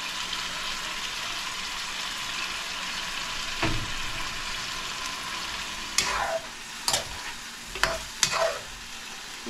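Chicken adobo with soy sauce sizzles and hisses steadily in a pan, close and continuous, while a spoon scrapes and clacks against the pan several times near the end.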